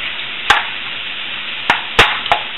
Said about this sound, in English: The mushrooms are cooking down